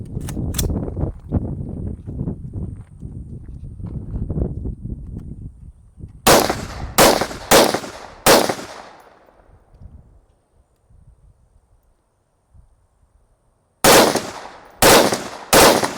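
A rifle fitted with an Atrius Super Selektor forced reset trigger fires in rapid bursts of sharp, loud shots, three or four in quick succession, then a long quiet stretch before another fast burst, with low rumbling activity before the first string.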